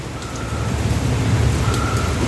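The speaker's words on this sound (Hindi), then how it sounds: "अभी भी बारिश हो रही है।" Steady rain falling in Mumbai outside a home, a continuous dense hiss with a low rumbling undertone, constant in level and with no voices.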